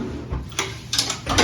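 Drawer in a hotel room closet at the Wynn/Encore resort in Las Vegas sliding open or shut: a few soft scraping and knocking bursts, close by, with no talk.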